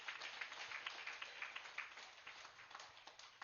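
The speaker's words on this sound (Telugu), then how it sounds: "గట్టిగా చప్పట్లు కొడదాం" Audience applause fills a hall at a Telugu spiritual talk by PMC's Anand Kumar: a steady, faint wash of many hands clapping continuously for several seconds, with no voices over it.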